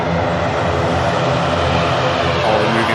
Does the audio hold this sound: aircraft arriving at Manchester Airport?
yes